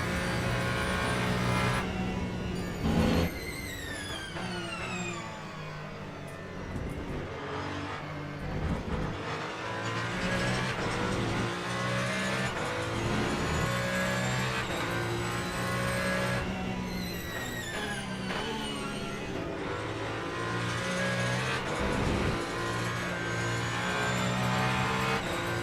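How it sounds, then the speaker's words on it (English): The Ferrari 499P LMH hypercar in Le Mans Ultimate howls steadily through the whole run, its engine rising and falling through repeated gear changes with rapid shifts and revving, close and continuous. "I'm driving the Ferrari 499P"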